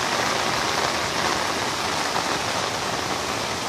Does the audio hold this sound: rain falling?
yes